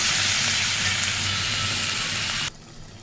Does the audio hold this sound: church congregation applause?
no